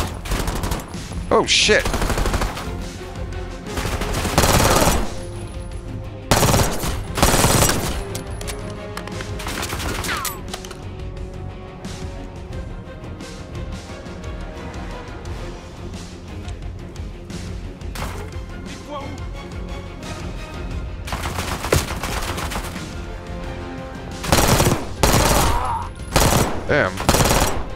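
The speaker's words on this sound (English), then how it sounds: "Oh, I don't like the recoil on this gun." Rapid automatic gunfire fills a Call of Duty Black Ops 6 firefight, with dense bursts, repeated loud volleys and short pauses, and someone talking over the shooting.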